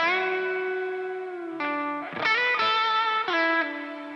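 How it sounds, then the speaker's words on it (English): Sustained electric guitar notes with distortion, a held tone followed by several bends that rise in pitch, loud and close, no talk. "I'm going to bend that 9"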